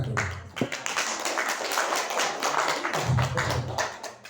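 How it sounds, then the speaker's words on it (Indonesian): An audience at an opening session of an in-house teacher training workshop in Sumba Tengah bursts into dense, even clapping that holds steadily before tapering slightly. "tepuk tangan dulu"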